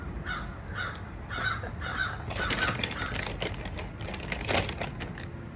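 Crows caw outdoors in a series of rhythmic calls, about four harsh caws followed by a busier cluster, moderately loud against a faint background hiss.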